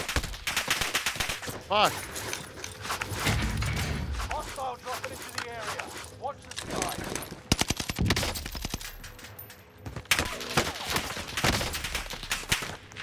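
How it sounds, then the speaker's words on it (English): Gunfire in Call of Duty: Warzone, with bursts of rapid shots and single cracks scattered through the stretch, heard under loud, excited talk and a shout. "Fuck, taking fire!"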